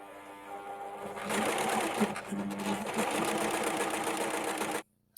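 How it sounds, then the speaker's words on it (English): A Husqvarna Viking overlock sewing machine fitted with a blind hem foot runs steadily, a fast, close, mechanical whirring stitch that builds up, holds for several seconds, then cuts off abruptly. "So this is where the needle will go into the edge of here, and this will be overlocked."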